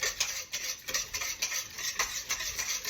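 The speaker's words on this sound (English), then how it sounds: "we're just going to whisk this together" Whisking ingredients for pepper steak in a bowl, quick rhythmic metallic scraping and ticking strokes, close and steady throughout.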